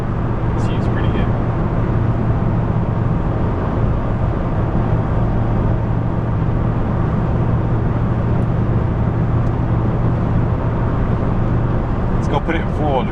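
Toyota Tundra pickup truck in four-wheel drive rolling along a road, a steady low engine and tire drone running continuously throughout, with a brief clatter near the end.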